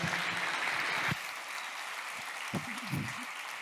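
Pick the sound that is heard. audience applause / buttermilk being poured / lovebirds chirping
audience applause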